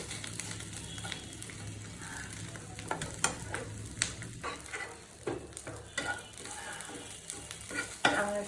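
Dried fish (chepa shutki) fries in a pan with a soft sizzle. Intermittent stirring and scraping clatters sound close and fairly quiet, with no voices.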